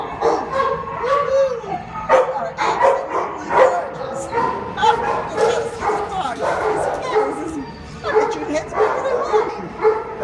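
A very large dog in a kennel at an animal shelter barks repeatedly in deep bursts, mixed with high yips and whimpers, loud and close, with people talking nearby.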